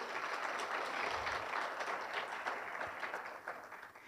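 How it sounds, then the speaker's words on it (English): Applause from the audience at an inaugural university lecture, steady and soft as if heard from a distance, lasting about four seconds and gradually fading. "That deserves a round of applause."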